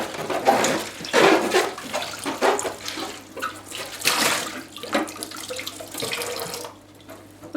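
Warm water runs from a tap over a clear Lexan body shell for an Axial Honcho RC car, a close, steady rinse with splashing surges that rise and fall as the shell moves under the stream.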